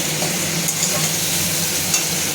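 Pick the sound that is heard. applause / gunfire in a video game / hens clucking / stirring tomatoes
stirring tomatoes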